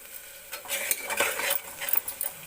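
A spoon stirs chopped onion, carrots, peas, cauliflower and potatoes with spices in a pan in a home kitchen, scraping and clinking irregularly at close range over a faint sizzle.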